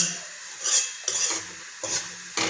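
Onion frying in a pan and stirred with a spoon, scraping strokes at intervals over a faint steady sizzle, close and fairly quiet.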